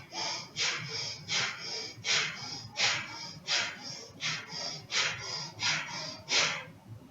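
Breath of fire yoga breathing during a hatha yoga session, a rhythmic series of about ten forceful nasal exhalations in even pulses, close and clear with no talking.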